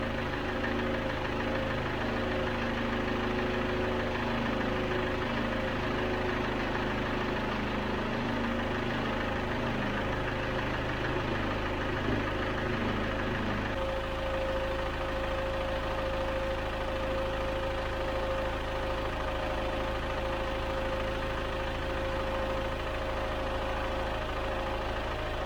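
A Land Rover Series 3 88 engine runs steadily after its first start, idling with a continuous mechanical rumble and light knocking, its tone shifting slightly partway through, heard alone without talk.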